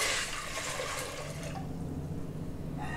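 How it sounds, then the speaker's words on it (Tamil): Water pours into a cooking pot at home, measured by the tumbler for ground rice batter, a steady splashing rush that fades after the first seconds into a quieter trickle. "இப்போ இதில் எந்த டம்ளரால் எடுத்தோமோ அதில் 5 டம்ளர் தண்ணி விட்டுக்கலாம்"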